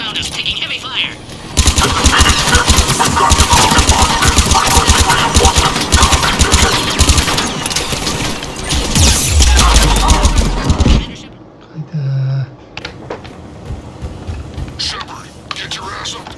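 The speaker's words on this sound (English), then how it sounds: "Commander Server has found us, taking heavy fire." Heavy automatic gunfire rattles in a Mass Effect 3 battle, dense and loud bursts sustained over several seconds, with a deep boom near the end, then quieter combat ambience as voices speak over it.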